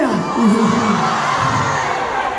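A concert crowd at a band show in Calgary cheers and shouts, loud whoops and yells blending into a continuous roar that holds for the whole moment.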